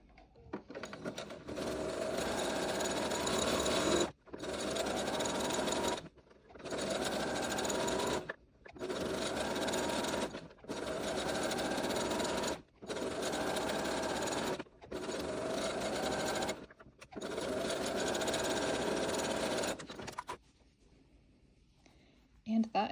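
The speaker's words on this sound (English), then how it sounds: "And that's how you sew a lettuce hem on a home sewing machine." A home sewing machine stitches a lettuce hem in about eight steady whirring bursts separated by short pauses, close and fairly quiet, stopping near the end.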